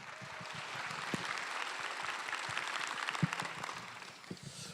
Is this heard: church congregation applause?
yes